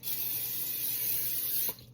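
Cooking spray sprayed into a 2.5 quart round casserole dish, one steady close hissing burst lasting under two seconds that cuts off abruptly.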